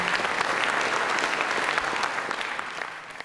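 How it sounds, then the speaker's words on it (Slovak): A crowd claps steadily and fairly loudly for a Lamborghini owner's car at an outdoor meet, a short continuous burst of applause that tapers slightly at the end. "A kľudne mu zatleskajte, samozrejme."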